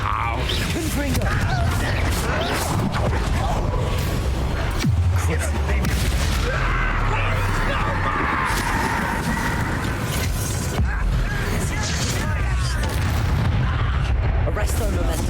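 Repeated Confringo fire blast spells bursting as explosions in the Hogwarts Legacy video game, a dense run of booming blasts and crashes over game music and chatter, with a player talking through much of it.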